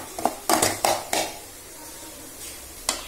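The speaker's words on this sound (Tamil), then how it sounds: "அதே மாதிரி நம்ம வதக்குறப்பயே அந்த காலிஃபிளவரை நல்லா இப்படியே கொத்தி விட்டீங்கன்னா நல்ல பொடி பொடியா ஆயிக்கிறோம்." A spatula chops and breaks up pre-boiled cauliflower sautéing in a pan, giving a cluster of sharp scraping clacks early on, then a quieter stretch and one last knock.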